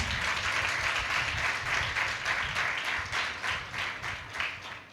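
A church audience at a training programme claps loudly and continuously, a dense wash of hand claps that swells and fades in waves over several seconds.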